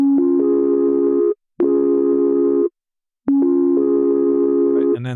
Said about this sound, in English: for the chords I used the toy flute sample that I think we all probably overused.